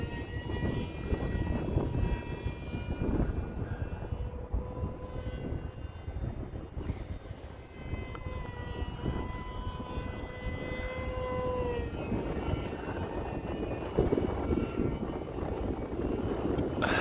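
A Hobbyzone Aeroscout RC model airplane's electric motor buzzes at low throttle overhead on a windy day, a thin wavering whine that drifts in pitch over constant gusty wind rumble.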